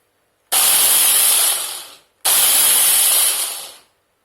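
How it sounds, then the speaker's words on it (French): Food processor whirring as it blends bell pepper, parsley, garlic, spices, salt and pepper, in two loud, close bursts of about a second and a half each, separated by a short pause. "je vais mixer le poivron, le persil, l'ail, les épices, le sel, le poivre dans un robot"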